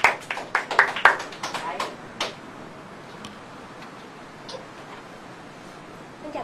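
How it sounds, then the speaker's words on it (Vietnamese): A small audience at a cafe forum gathering gives a short burst of scattered clapping, a handful of sharp claps over the first two seconds that quickly thins out and leaves quiet room tone. "Xin một tràng pháo tay."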